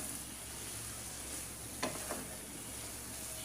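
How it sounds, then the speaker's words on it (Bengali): Beef pieces for kebab sizzle quietly and continuously in a pan, a soft steady frying hiss with a couple of faint stirring scrapes. "দেখেন আমি ভাজা ভাজা করছি মাংসগুলো।"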